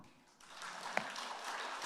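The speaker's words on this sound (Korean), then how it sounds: "박수로 환영할까요?" Church congregation at a Korean closing worship service applauds to welcome the pastor, a soft, fairly thin patter of clapping that swells briefly and holds, with a single sharper clap standing out partway through.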